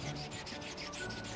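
Car body being sanded by hand before painting with a roller, a steady, fairly loud rubbing rasp with rhythmic back-and-forth strokes throughout, no talking.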